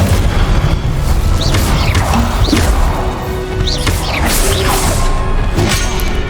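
An Incendio fire spell cast during a Hogwarts Legacy boss battle, heard as a steady loud roaring blast with booming impacts and whooshes throughout, no voices.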